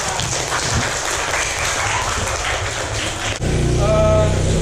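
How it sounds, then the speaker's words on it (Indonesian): A classroom group claps together for student group 5 after a presentation, a dense steady burst of applause that cuts off abruptly, followed by a brief tonal sound. "Tepuk tangan untuk kelompok 5."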